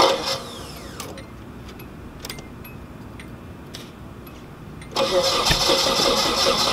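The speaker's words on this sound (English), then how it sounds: "let's go ahead and get that cold start of the 240 baby" Cold start of a 240 car engine in snowy conditions: the starter cranks for a few seconds, then the engine catches and settles into a loud, steady idle close by.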